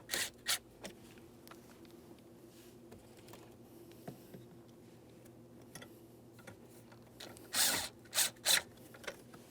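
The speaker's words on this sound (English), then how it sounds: "We can get them started in and snug them up" Mounting bolts on a 2003-2008 Toyota Matrix HVAC blower motor are snugged with a hand tool, giving soft scattered ticks and clicks followed by a few louder ratcheting bursts near the end.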